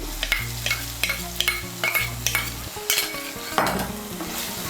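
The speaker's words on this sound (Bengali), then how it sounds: "টক দইটাকে ভালো করে মিশিয়ে নেব। মশলার সঙ্গে মিশিয়ে নিয়ে মশলাটাকে আরেকটু কষিয়ে নেব।" Yogurt whisked with a little salt being stirred into frying masala in a pan for masala bhindi, giving a steady sizzle with repeated spoon scrapes at a regular rhythm over a low background hum.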